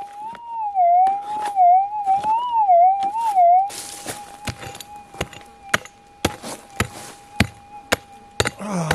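A metal detector screams a loud, wavering warbling tone over a gold nugget at the tip of a rock at an abandoned gold mine, then switches to a steadier tone broken by sharp digging and scraping hits, with no talk.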